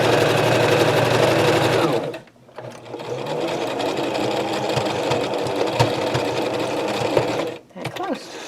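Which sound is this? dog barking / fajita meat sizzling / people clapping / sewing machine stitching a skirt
sewing machine stitching a skirt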